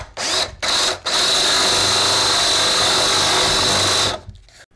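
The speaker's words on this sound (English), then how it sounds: "so I went ahead and bored a hole in the firewall for that." A power drill bores a hole through the wooden firewall of a giant-scale P-47 Razorback model airplane: two short whining bursts, then a loud sustained high-pitched run of about three seconds that winds down, up close.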